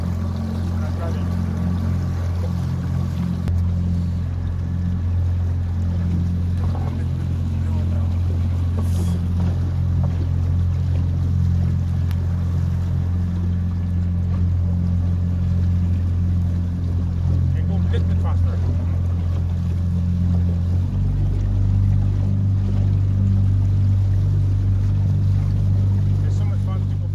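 Fishing boat's motor drones loud and steady throughout as the boat is driven, a constant low engine rumble that shifts pitch slightly near the end, with wind and water noise over it.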